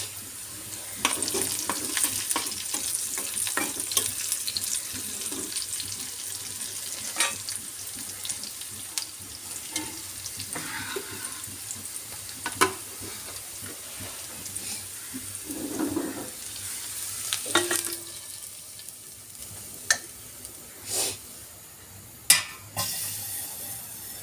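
Boiled dal poured into a pan of tempering and stirred, a steady wet hiss and sizzle with scraping spoon sounds, close and continuous, with no voices.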